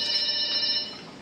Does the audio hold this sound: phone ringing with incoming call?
yes